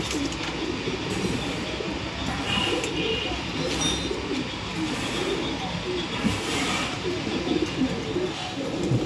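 Breeder and racing pigeons, including an old male, coo steadily in a loft in T Dasarahalli, Bangalore, with a busy murmur of many birds and some rustling throughout.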